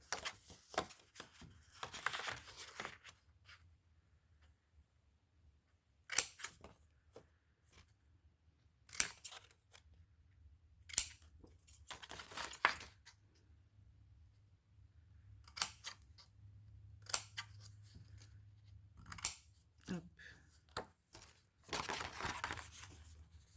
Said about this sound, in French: je viens couper les angles